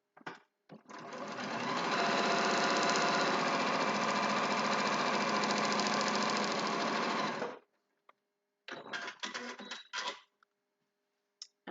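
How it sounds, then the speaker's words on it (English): A sewing machine joins fabric pieces for a spools-of-thread patchwork block, running in one steady, loud, continuous burst for about seven seconds, then stopping, followed by a few short clicks and handling noises. "And sew along the line between 1 and 4."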